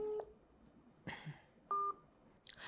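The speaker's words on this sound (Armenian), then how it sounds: "Փորձենք զանգել շտապօգնության ծառայության նախկին տնօրենին" Telephone keypad dialing: a few short, separate beeps spread out with pauses, plus a brief rustle or click between them. The tones are moderately loud, with no voices.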